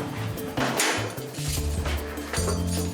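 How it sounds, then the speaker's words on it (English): Metal bolts are worked loose from a wooden animal travelling crate at a monkey sanctuary, a busy run of knocks, clinks and wooden thumps close by over background noise. "Jeremy works quickly to remove the bolts from Kai's travelling crate."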